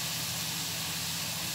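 Liver frying in a pan with oil and cumin gives off a dense, continuous sizzle, loud and steady and close by, with no talking.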